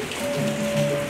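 Rain falls steadily at a zoo in Norfolk, Virginia, a soft, even patter heard briefly and fairly faintly alongside a low steady hum.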